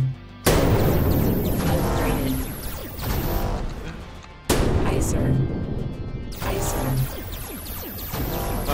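Heavy cannon blasts from the Tronix Defender tower-defense game, booming in loud bursts with sustained rumbling tails, three main volleys across several seconds, up close and dominating the mix.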